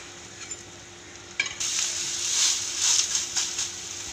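A wheat flour dosa fries in oil on a pan; after a quiet start, a bright sizzle rises and holds, with light scraping and crackle close by.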